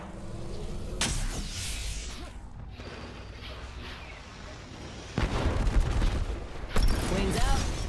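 Gunfire in Apex Legends rings out as bursts of weapon shots and impacts against busy game sound, heaviest in two loud volleys toward the end, with voice lines heard over the action.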